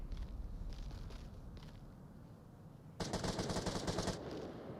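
A sudden burst of rapid automatic gunfire in a competitive match of the VR shooter game Onward. It comes after quieter ambient noise with faint scattered shots.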